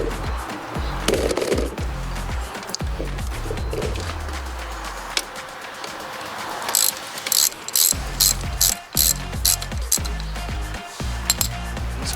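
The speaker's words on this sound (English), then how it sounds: "we can just use a crescent wrench here." A crescent wrench ratchets and clicks while loosening a sprocket bolt on a Yamaha PW80 dirt bike, close and mechanical, with rapid clinking bursts near the end.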